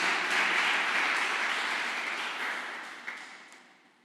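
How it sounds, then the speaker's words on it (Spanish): Congregation at a Spanish-language church service applauding for the Lord, a broad wash of clapping that starts full and gradually fades away over a few seconds. "Yo daría un aplauso al Señor realmente"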